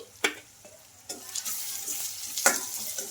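Turmeric and salt with softened tomatoes frying in a pan, a steady close sizzle broken by a few sharp scraping stirs of a spoon, with no voices.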